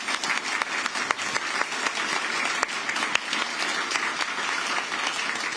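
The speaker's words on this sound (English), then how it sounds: "Can you all give them a wonderful round of applause?" Audience applause for the candidates at a League of Women Voters district forum in Austin: steady, dense clapping from a room full of people, even in level throughout with no voices over it.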